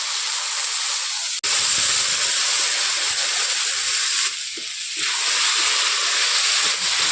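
Potatoes frying in spice paste in a pan give a loud, steady sizzling hiss that runs throughout, with a brief break early on and a short dip in intensity midway.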